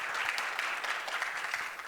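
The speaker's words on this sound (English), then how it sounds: "A big round of applause for our panelists" An audience at a soccer business conference panel applauds the panelists with continuous, even clapping throughout, moderately distant and uninterrupted.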